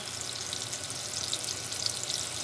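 Salmon pan frying in oil over medium high heat, a steady bright crackling sizzle, close and fairly quiet, with no voices over it.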